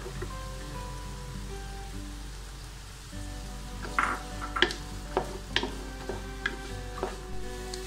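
Chopped carrots go into a pan of frying onions, followed by a quiet sizzle and a string of sharp spatula clicks and scrapes against the pan.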